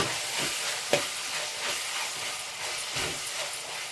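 Paneer fried rice being stirred with red chilli sauce in a hot pan, close scraping strokes of a spatula repeating every half second or so over a continuous sizzle.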